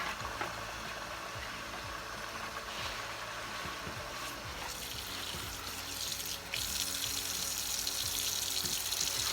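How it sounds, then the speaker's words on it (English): Polk sallet greens being washed under a running tap make a steady rushing, splashing stream of water into a sink, with a low hum in the background. "Now I'm going to wash this plant about 7 times."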